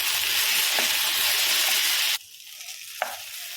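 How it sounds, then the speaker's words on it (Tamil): Potatoes dusted with turmeric and chilli powder are stirred in a hot pan, a steady loud sizzle and scrape for about two seconds, then the frying drops to a quieter crackle with a sharp utensil knock near the end. "இதெல்லாம் நல்லா மிக்ஸ் பண்ணிடுவோம்."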